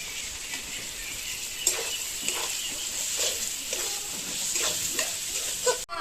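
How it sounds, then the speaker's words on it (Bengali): Onion and chopped tomato frying in a pan, with a steady close hiss of sizzling oil and occasional scraping stirs, no talk. "পেঁয়াজটা একটু লাল লাল করে ভেজে নেব। দিয়ে দিচ্ছি টমেটো কুচি"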